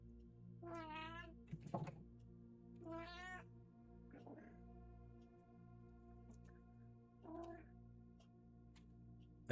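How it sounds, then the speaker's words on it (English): A cat making short chirping, trilling meows, four separate bursts spaced across the clip, fairly quiet over a steady low electronic hum. "do people hear the cat when she chirps up?"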